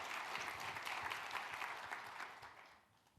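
A keynote audience applauds for Tom with sustained, even clapping that fills the hall, then tapers off and fades near the end.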